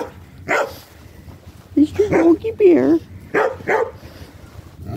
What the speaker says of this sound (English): Oh, she's barking.